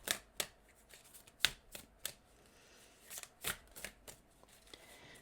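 Tarot cards are shuffled by hand in quick, irregular snaps and riffles, faint and close, with brief gaps between bursts.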